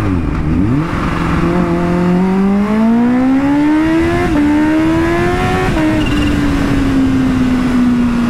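Kawasaki H2 supercharged superbike accelerating hard at high RPM on a main road, engine note climbing steadily through several quick, clean quickshifter gear changes, loud and close throughout.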